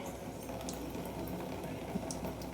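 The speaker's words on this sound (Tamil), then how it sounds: "ஏற்கனவே தண்ணி நாங்கள் கொதிக்க வச்சுட்டு இப்போ அது கொச்சிச்சு." Water at a rolling boil in a pot, heated for cooking egg noodles with vegetables, bubbling steadily and fairly softly throughout with no talk.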